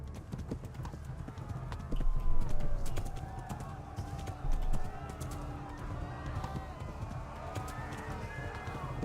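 Horse galloping in the video game Kingdom Come: Deliverance, steady rapid clip-clop hoofbeats with swells of louder pounding, with someone talking over them at times.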